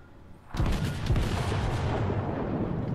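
A Colorado battleship's main guns fire in World of Warships with a sudden booming salvo, followed by a long, loud rumbling roar that fills the rest of the moment.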